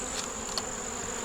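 Honey bees buzz around a nuc box hive in a close, steady, high hum with a couple of brief louder passes near the microphone, and no talking.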